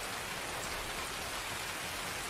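Heavy rain in Escape from Tarkov, a dense, steady hiss of downpour on surfaces filling the whole clip at an even level with no talking.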